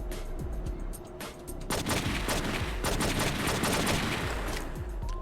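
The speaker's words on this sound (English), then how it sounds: "So now we have a little rail shooter here, where I'm just going to be ascending and shooting some people." Rapid bursts of gunfire from a rail shooter section in the video game True Crime: New York City, dense overlapping shots and automatic fire sounding loud and continuous with no talking.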